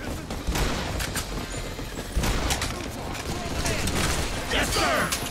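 Sustained automatic gunfire aimed at robots in the game Earth Defense Force 6, loud dense bursts with heavier impacts and mechanical clatter, continuing without pause.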